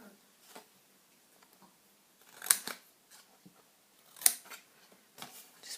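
Scissors cut a notch in a small paper pizza box: a few crisp, close snips with sharp clicks of the blades closing, spaced out with quiet gaps and soft rustling between.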